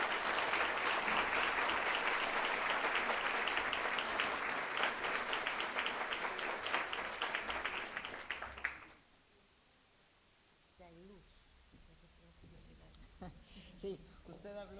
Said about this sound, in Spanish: Brindémosle un fuerte aplauso.